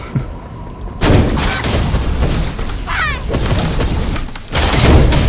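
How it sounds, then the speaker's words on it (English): Force Master barrage skill in Blade & Soul, a video game, firing a rapid stream of fireballs: dense continuous crackling blasts and booming impacts, loud and layered over game effects with a brief whooshing sweep. "It's a barrage skill. You can go Akuma on their ass."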